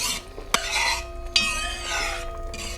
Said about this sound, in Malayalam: അപ്പോൾ നമ്മൾ പാലുകൾ ഓരോന്നായിട്ട് ഒഴിക്കുകയാണ്.